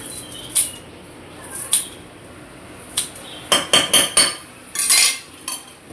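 Chicken fry ingredients with ginger paste, oil and coriander being mixed: a spoon scrapes and clinks against a metal pot in irregular taps, sparse at first, then quicker clustered strokes, close and fairly loud.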